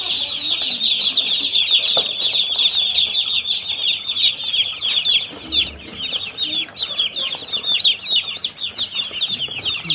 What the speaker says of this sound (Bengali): মুরগিগুলো দেখুন, এটা হলো আমাদের নিজস্ব খামারে লালন পালন করা হয়।